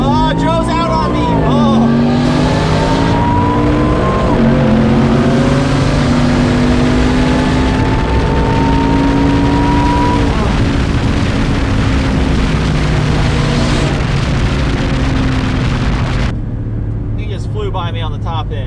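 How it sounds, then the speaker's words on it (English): VMP supercharged trucks racing at ModNationals 2018 roar loudly and close, with engine revs climbing through several gear shifts over a sustained high-power drone before the sound cuts off abruptly near the end. "that was another good race between me and Joe"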